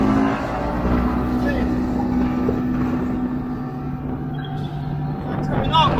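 A motorboat accelerates onto plane during a propeller test, its engine a loud, steady drone with wind buffeting the microphone throughout.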